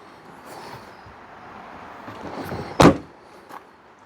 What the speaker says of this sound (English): The all-important door shut sound.